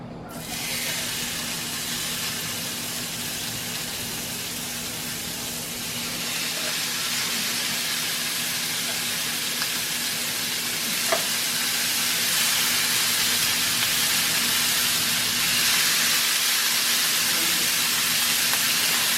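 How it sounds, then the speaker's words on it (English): Ribeye steaks searing on an outdoor grill, a loud, steady sizzling hiss that runs unbroken for the whole stretch and swells slightly toward the end, with no talk over it. "We are going to start grilling our ribeye. Give it a nice sear on the meat."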